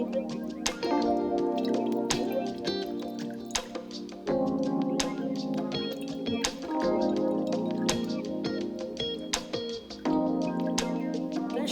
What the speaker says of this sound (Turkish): Ama şimdi çok rahatlıkla akıyor görüyorsunuz zaten.